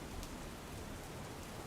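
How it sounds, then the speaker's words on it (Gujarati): Heavy rain falling in Gujarat, a broad continuous hiss of downpour that stays even and unbroken, with no voices present. "ભારે વરસાદના કારણે અનેક જગ્યાએ પાણી ભરાઈ ગયા છે."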